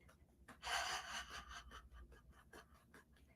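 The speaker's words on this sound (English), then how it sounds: "let's try longer inhale through the nose and a longer exhale than your inhale" A single long, breathy inhale followed by a slower, softer exhale, close and fairly quiet, with faint rustling in the background.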